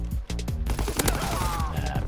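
Teammates fire guns in Call of Duty WWII, producing a loud, dense barrage of overlapping rapid shots and bursts from close by with no pauses.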